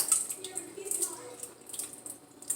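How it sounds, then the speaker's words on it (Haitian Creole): Water poured out through a colander into a bowl while preparing ground meat, a faint splashing trickle that comes and goes in short bursts, close by. "je vais vider dans le passoire"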